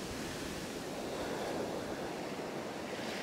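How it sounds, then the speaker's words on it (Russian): Ocean surf at Pandawa Beach, Bali, a constant low roar of waves washing in, fairly faint and unbroken, with wind noise mixed in and no voices. "волны какие-то есть"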